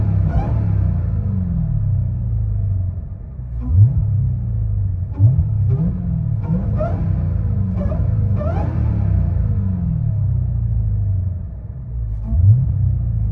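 A Dodge SRT Hellcat idling and revving with its exhaust valves closed, a deep, muffled rumble rising in several short blips and settling back to a low burble between them.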